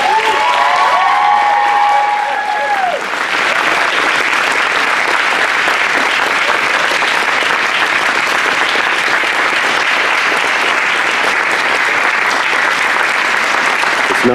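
A large crowd breaks into loud, sustained applause honouring Master Sharpe at a Tang Soo Do recognition event, with the clapping swelling after a brief tonal opening and holding steady to the end.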